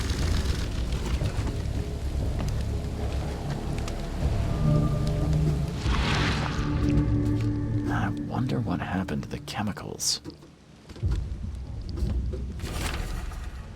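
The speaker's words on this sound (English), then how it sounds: "We must go to the open sea, or we have no chance of surviving the storm." Steady rainfall with rumbling thunder fills a stormy scene in the video game The Sinking City, with someone talking over the storm and a few sharper cracks and splashes toward the end.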